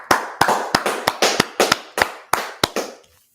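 Sharp, loud hand claps ring out in a rhythmic series of about a dozen strikes from a crowd at a street gathering in Washington DC, each clap echoing briefly before the last one fades into silence.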